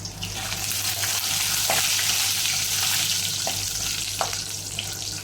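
Shallots and green chilies fry in hot oil with mustard seeds in a pan for Kerala pappadam curry, giving a steady, loud sizzle throughout with a few faint clicks of stirring and no talking.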